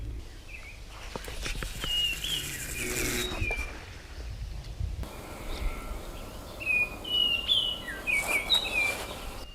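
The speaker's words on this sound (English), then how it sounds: "that's an oriole making that sound." An oriole sings in short, bright whistled phrases beside a carp-fishing lake. Faint insect buzz and other quiet outdoor sounds run underneath, and the calls grow clearer and more frequent toward the end.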